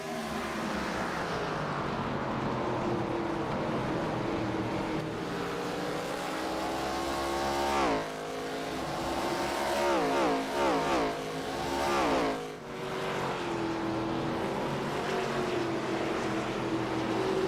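A Pro Cup Series stock car at Richmond drones loudly and continuously as it eases out of a corner on light throttle, its engine note rising and falling with a few sweeping pitch shifts as other cars pass nearby.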